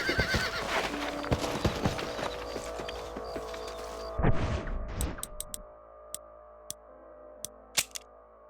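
In a video game, horse hooves clip-clop in a steady trotting rhythm over a busy backdrop of music and ambience, then sharper isolated hoof clicks ring out as the scene quiets.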